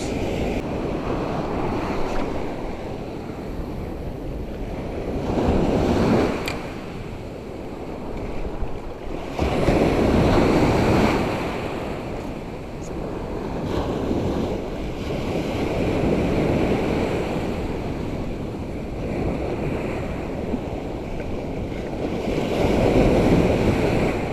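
Steady headwind buffeting the microphone with surging gusts while fishing on the shore at Karasu, alongside washing surf and waves, loud and continuous with no voices.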